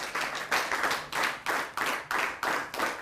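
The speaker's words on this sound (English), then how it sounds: "A round of applause to our judges." Applause for the judges at a school debate competition, a crowd clapping in uneven rhythmic bursts, close and moderately loud, with no talking.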